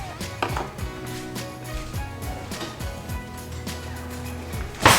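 A dull kitchen knife scoring grid lines into food on a board, a series of soft, irregular knocks and scrapes close by, ending in a sharper clack.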